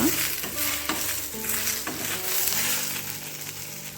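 Okra frying in a pan in a home kitchen, a soft steady sizzle with a few light scrapes of stirring, fairly quiet and close, no voices.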